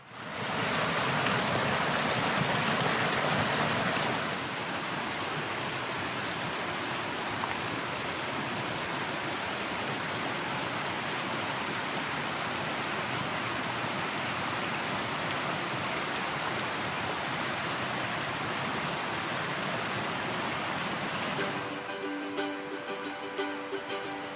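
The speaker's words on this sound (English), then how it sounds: "The creek is right here." The East Fork of Trout Creek flows beside a forest campsite in Kaniksu National Forest, Montana, giving a steady, close, broad rushing of water that continues without pause for the whole stretch, with no voices.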